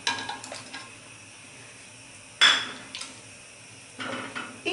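Butter and stirred pudding mix going into a pot of boiling milk while making a poppy seed cake with blueberries; a few clinks and scrapes of utensils against the pot, a louder splash-like burst midway, and quiet gaps between.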